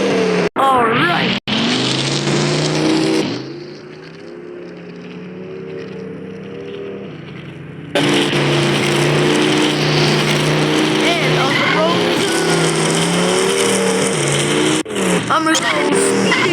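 A car accelerates hard and speeds along, engine whining and shifting pitch repeatedly, loud and close, with a quieter lull midway before the roar returns; a voice talks briefly over it.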